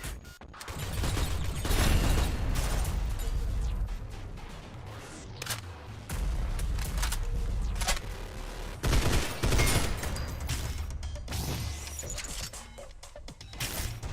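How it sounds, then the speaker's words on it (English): Gunfire from the video game Synthetik: Legion Rising, a starting gun firing in bursts: loud, dense volleys of rapid shots with crashing impacts, repeating across the whole stretch with short gaps between bursts. "Seems like my starting gun has burst fire."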